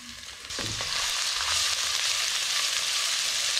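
Oil bursts into a loud, steady sizzle after a brief quiet start, with stirring clatter as chopped garlic and ginger fry continuously.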